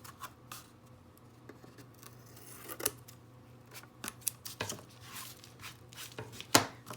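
Scissors trimming a paper pattern for cutting clay, a series of light, irregular snips and rustles at close range, fairly quiet, with no speech.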